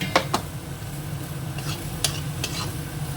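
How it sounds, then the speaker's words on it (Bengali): Onion and spice masala frying in a pan, a steady close sizzle punctuated by sharp scrapes and taps of a spoon stirring against the metal at irregular intervals, with no talk. "এই মশলাটা খুব ভালো করে কষে নিচ্ছি পেঁয়াজটা অনেকটা নরম হয়ে গেছে"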